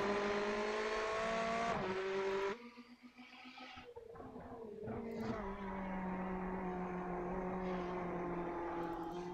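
Ferrari and Ford GT race cars battle at Spa, their engines wailing and shifting pitch as they rev, dropping off sharply for a moment before building back into a steady, fairly distant drone.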